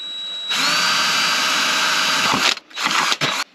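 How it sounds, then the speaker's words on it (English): A tiny drill bit boring holes into a shiny metal can for a penny stove, a high continuous whine that runs for about two seconds, stops, then resumes in two short bursts, close and loud. "take our tiny drill bit and carefully drill 4 holes in there, right in the very middle"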